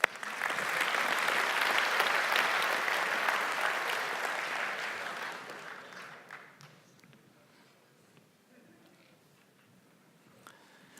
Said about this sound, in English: And of course you get a round of applause